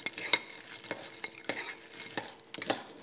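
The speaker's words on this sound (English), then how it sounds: "Stir those together" Pretzels and a pinch of cinnamon are stirred in a bowl, with a spoon clinking and scraping in irregular bursts and a dry rustle of pieces shifting between the knocks, close and fairly quiet.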